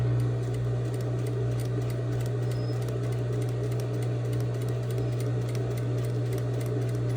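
A sewing machine runs steadily while stitching a convex curved seam sample in fabric, a continuous mechanical whir with a low constant hum and fine rapid ticking, moderately loud and without talk.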